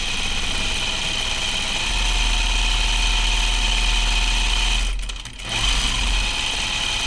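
Sewing machine running continuously while stitching lines on a Wiksten jacket: a loud, steady mechanical whir and hum held at an even speed, briefly dipping near the end before resuming, with no talking.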